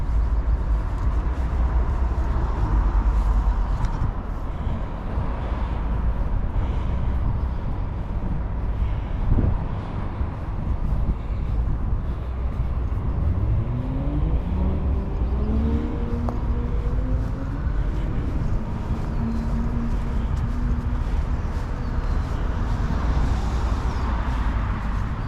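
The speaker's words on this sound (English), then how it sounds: "A lot of noise there earlier from traffic." Steady road traffic in Foster City rumbles throughout, with vehicles passing and an engine revving and accelerating in the middle, plus some wind buffeting the microphone.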